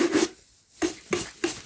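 Brush scrubbing leather-soled boots in firm strokes, four short close bristly swishes with a brief pause after the first, dry and rasping with no voices.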